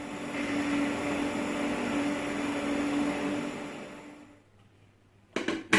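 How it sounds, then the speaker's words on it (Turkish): A blender purees cooked soup with a steady, dense whirring drone for about four seconds, then cuts out, and a few short knocks follow in the quiet. "Onu da şöyle blenderdan bir geçireyim."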